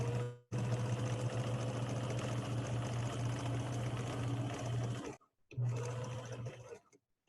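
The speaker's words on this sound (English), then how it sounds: "So I am starting right at that spot, putting my needle in, and also making sure you never sew all the way to the end." A sewing machine stitches a seam in white linen, a steady close whirring hum that runs continuously for about five seconds, cuts out briefly, then resumes for a shorter burst before stopping.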